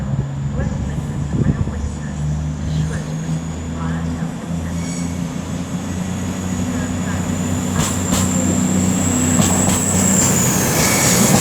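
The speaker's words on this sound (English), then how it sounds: "Coming in behind me is the 1412 West Midlands Railway service from Birmingham New Street to Shrewsbury, coming in about 3 minutes late" A West Midlands Railway service from Birmingham New Street to Shrewsbury pulls into Wolverhampton station, a low rumbling roll of wheels and engine building steadily louder, with a high thin squeal of wheels rising near the end.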